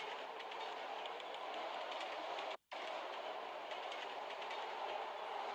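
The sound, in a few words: metro train running in SAS4 video game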